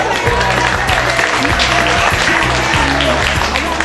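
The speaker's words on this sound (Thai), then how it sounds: "ขอเสียงปรบมือให้ด้วยครับ" Applause at a friendly football match as a player is introduced, heard over a loud, busy background with steady low music-like tones and some crowd noise.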